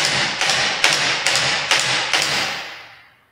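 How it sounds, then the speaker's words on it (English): An airsoft gun with a blowback system fires about five shots, each a sharp clack over a steady loud mechanical whir that fades away at the end, close by with no talk. "I'm going to shoot the gun a couple times as it's standing in this motion"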